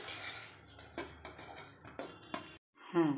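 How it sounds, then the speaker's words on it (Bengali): Metal spatula scrapes and clinks against a pan while lifting fried pointed gourd (potol) out of the oil, several brief close taps, then a short gap before a voice speaks. "পটলটাকে তুলে নিচ্ছি"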